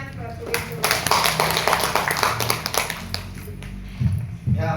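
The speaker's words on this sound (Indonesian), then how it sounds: "Tepuk tangan buat Bu Ibu." Audience applause at an AFC business presentation in a Yogyakarta hotel ballroom, a dense wash of clapping sustained throughout, with a loud burst near the end and speech and background murmur mixed in.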